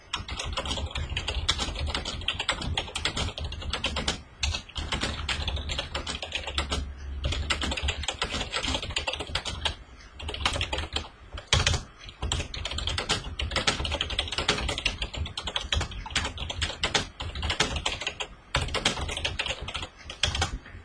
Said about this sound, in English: For example, let me type some text.